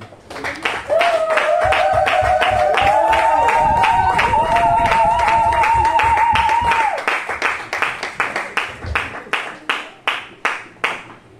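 A church congregation breaks into loud, dense applause with cheering and raised voices, the clapping thinning into slower rhythmic claps toward the end.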